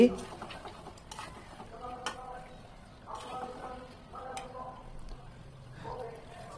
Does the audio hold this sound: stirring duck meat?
yes